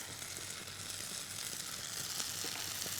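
Lemon juice hits a hot pan with rock salt, producing a dense, continuous close sizzle and frying hiss for a few seconds with faint stirring underneath, no talk.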